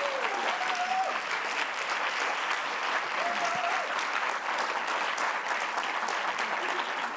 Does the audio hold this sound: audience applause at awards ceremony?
yes